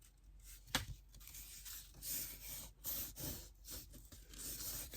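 Dry rubbing and scraping strokes of a bone folder pressed along thick paper, several firm passes close by with a sharp tap near the start.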